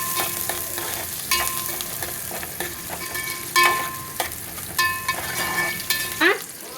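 Chopped onions, curry leaves and cumin fry in a pan under constant sizzling. Repeated scraping stirs of a utensil against the pan come every second or so, close and clear.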